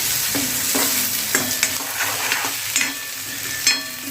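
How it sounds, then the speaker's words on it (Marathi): Onion fries in hot oil in a pan, a steady sizzle broken by regular spatula scrapes and taps roughly every half second, close up with no talking. "कांदा ही मस्त असा भाजला गेला पाहिजे आणि सुगंध असा वास आला पाहिजे कांद्याला"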